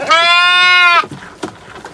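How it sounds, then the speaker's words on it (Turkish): A hungry lamb on a sheep farm in Bulgaria lets out one loud, close bleat lasting about a second, followed by faint rustling and small knocks. "Ve bu kuzu niye bağırıyor?"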